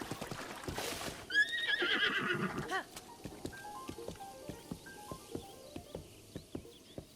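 Wild horses in the Faron Woods area of Zelda's Hyrule whinny loudly in a long rising and falling neigh, followed by a steady run of hoof clip-clops, with soft game ambience and little talk.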